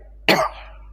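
A single short, close cough with a rough throat-clearing edge, sharp at the start and tailing off quickly against a quiet background hum.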